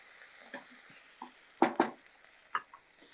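Tomato, mint and coriander sautéed in hot oil for semiya biryani, a soft sizzle broken by a few sharp spoon scrapes against the pan, the loudest pair in the middle, close and without speech.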